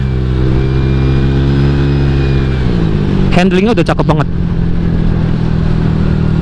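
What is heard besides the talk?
Honda Vario 150 motorcycle engine and exhaust revving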